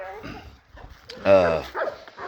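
A Cane Corso gives a couple of short barks and yips at close range, outdoors at a breeder's yard, with a person talking around them.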